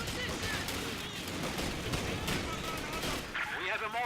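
Sustained machine gun fire from Tommies and a Vickers in a Company of Heroes 2 3v3 battle, a dense crackling rattle with scattered shots and a distant whine, under continuous commentary.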